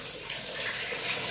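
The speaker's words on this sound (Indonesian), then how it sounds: "Nah, airnya sudah lancar ya" Water gushes from a repaired, previously clogged tap, a steady, close splashing stream that runs without a break for the whole moment.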